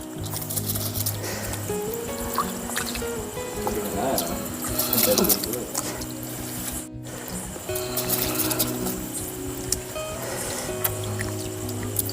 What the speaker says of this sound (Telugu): బాయిల్ అయ్యే వాటర్ బాగా.